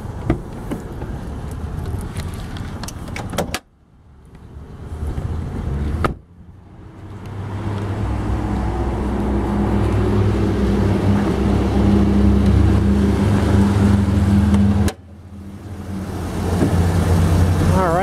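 A 2003 Chevrolet Suburban's 5.4-liter Vortec V8 idles with a steady, deep rumble close by, broken by a few abrupt cuts, then settling back into the same even drone.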